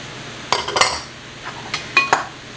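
A utensil stirs oregano and basil in a metal pot, giving several distinct scraping clinks in irregular clusters against a quiet background, with no voices.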